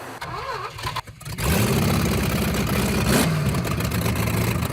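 A junkyard big-block V8 in a Suzuki Samurai cranks briefly, catches and roars into a loud, sustained high rev as if stuck at wide-open throttle, close and unbroken.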